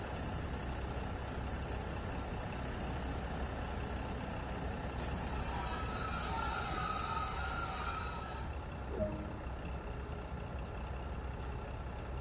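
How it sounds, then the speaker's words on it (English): A Class 150 diesel train in RAF 100 livery running from Liverpool Lime Street to Crewe in Train Sim World 2, with a steady low engine and rail rumble throughout and a thin high squeal partway through. "that, ladies and gentlemen, is the run from Liverpool Lime Street up to Crewe in the 150 with the RAF 100 livery"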